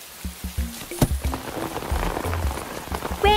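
Cartoon rain effect from a Pocoyo weather playset: pattering drops with plinking tonal blips, light and close, ending in a rising chime.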